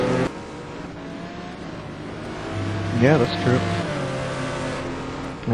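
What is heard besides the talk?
race cars driving at Anderstorp, STC Black Cup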